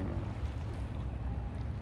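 Low, steady engine rumble of a tugboat passing on the water off Ma Wan, Hong Kong, blended with wind noise. The drone stays constant and moderately distant throughout.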